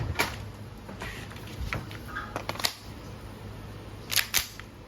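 WE Hi-Capa 5.1R airsoft pistol test-firing on semi-auto: a few sharp, snappy pops spaced apart, with a quick double burst near the end, over light background hiss and no talking.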